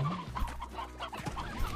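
Chickens in the Slime Rancher video game cluck in short, overlapping bursts, several birds close together over a low, steady background hum, with no voices.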